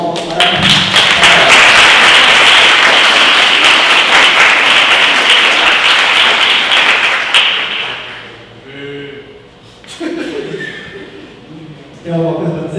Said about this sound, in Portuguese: por favor, uma salva de palmas para